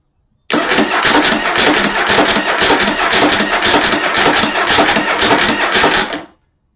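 Starter motor on a Yamaha Virago XV750 motorcycle with a modified starter, cranking the engine for about six seconds: a loud, close, steady rapid churning whir that starts abruptly and cuts off, with no talking.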